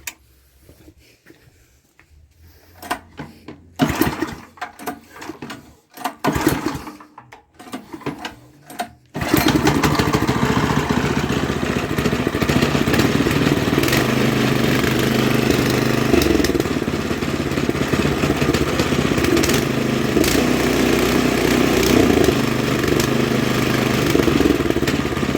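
A Haytor Condor rough cut mower engine is tried, with a few brief bursts and pauses before it catches, then runs steadily and loudly close by until the end, its motor note droning continuously.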